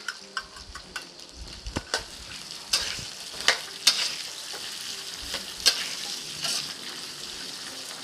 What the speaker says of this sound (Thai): จากนี้ก็ใส่เป็นกุ้งสดลงไปเลยค่ะ